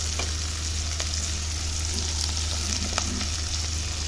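Green chillies tossed into onions frying in a pan, giving a steady, close sizzle with a few faint stirring clicks and no talking.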